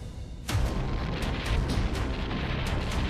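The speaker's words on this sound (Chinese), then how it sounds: "密集的炮火轰鸣着" Dense artillery fire booms across the North Korean mountains during the Korean War battle of Shanggan Ridge: a loud, continuous roar of overlapping blasts erupts after a brief quieter start, with repeated heavy thuds rolling through.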